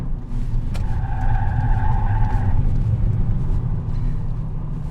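BYD Dolphin Mini electric car taking a corner at high speed, with steady road and tyre roar and a brief two-tone tyre squeal in the middle, heard from inside the cabin.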